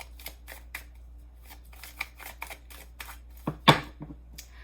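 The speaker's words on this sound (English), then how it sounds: "I shuffled 500 times." Tarot cards being shuffled by hand in a quiet room, giving a series of soft, irregular riffling and slapping bursts with one sharper snap near the end, no voices.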